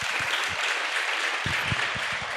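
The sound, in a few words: audience applause for the MLA at a nursing capping ceremony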